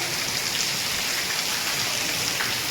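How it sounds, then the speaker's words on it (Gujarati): Steady, dense rain pours down evenly with a constant hiss of drops hitting surfaces, and no other sound stands out. "પાછો વરસાદ ચાલુ થઈ ગયો છે તો ઘેર વરસાદ આવે છે"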